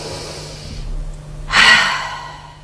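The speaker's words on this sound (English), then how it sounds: "The first thing that I'd like you to do is to take a deep breath." A single deep breath drawn in close to the mic, a soft airy inhale followed by a stronger, rushing breath that fades out, with no talking.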